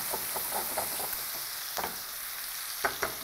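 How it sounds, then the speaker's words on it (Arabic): Celery and onion fry in a pan with a close, steady sizzling hiss, punctuated by a few soft spatters and stirring scrapes, no voices over it. "اول ما الكرفس مع البصل يتبلوا شويه"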